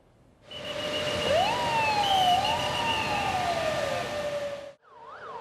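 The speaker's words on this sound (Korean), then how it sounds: "오후 2시 정각이 되자 요란한 사이렌이 울립니다." A loud civil defense air raid siren for a nationwide drill wails, rising and falling in long sweeping tones, sustained for several seconds before cutting off, with another siren starting faintly at the end.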